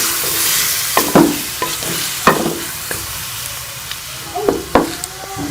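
Onions and tomatoes with garlic frying in a pan, with a steady close sizzle broken by repeated sharp scrapes and clinks of stirring, no voices.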